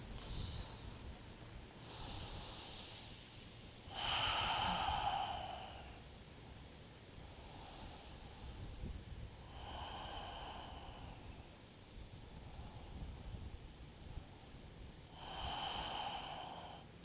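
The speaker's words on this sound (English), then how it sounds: "Stay with slow, deep breaths." Slow, deep yoga breaths rise and fall in unhurried cycles, each inhale and exhale a soft, close airy rush with long quiet gaps between.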